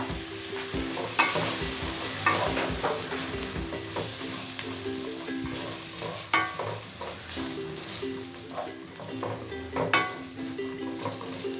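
Garlic ginger paste and chana dal fry in a pan while a spoon stirs them, giving a steady sizzle broken by repeated scraping and clinking strokes.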